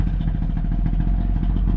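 Two-stroke motorcycle engine idling just after a choke start, blue smoke showing, a steady rapid clattering putter that runs loud and close without a break and with no talk.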